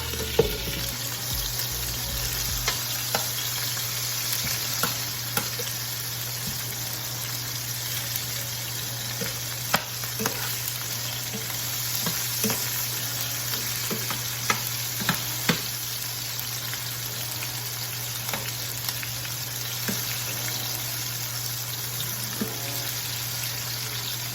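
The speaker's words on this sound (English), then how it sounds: "when you put your freaking tomatoes and everything in there, because it will pop and it will burn you" Tomatoes and other chicken mole ingredients frying in hot oil, a steady close sizzle with scattered sharp pops and occasional stirring clatter throughout.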